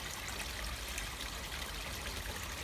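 Water runs from a hose into a garden pond as a soft, continuous trickle and splash. It stays fairly faint and even throughout, with no voices.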